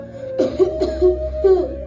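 A few short, harsh coughs in quick succession, close to the listener, with brief pauses between bursts.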